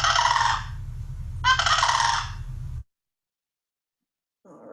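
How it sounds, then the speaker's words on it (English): A single adult sandhill crane gives two loud, rolling, rattling bugle calls in succession, each about a second long, near and clear before silence. "So the first one is what one single adult crane sounds like."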